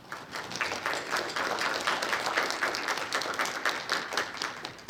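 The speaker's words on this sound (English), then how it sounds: "I would also like to show our appreciation with a round of applause." Round of applause from a crowd at a school board meeting, dense steady clapping that holds for about five seconds, moderately loud and even, with no speech over it.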